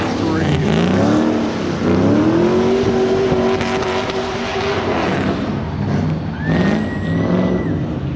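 A Chevrolet Colorado truck spinning a drift 360 at a speedway contest: its engine roars and holds a long high rev before easing off, loud and continuous, with crowd noise, another rising engine tone and voices mixed in.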